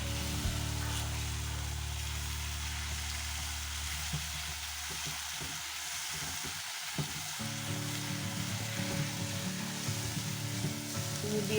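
Fish curry spices with Kashmiri chilli for pabda fish being stirred in a hot pan, giving a continuous loud sizzle with shifting scraping textures throughout.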